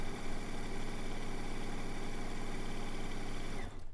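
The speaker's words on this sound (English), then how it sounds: "When sewing them together like this." A sewing machine runs steadily, stitching quilt diamonds together in a studio, its fast, even mechanical hum continuing loud and close until it stops abruptly near the end.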